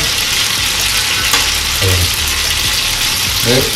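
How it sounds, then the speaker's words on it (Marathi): Prawns fry in a hot pan with a loud, continuous dense sizzle close by, with occasional faint scraping as they are stirred or turned. "बघा दिसते फ्राय पूर्ण एक साइड फ्राय झाली"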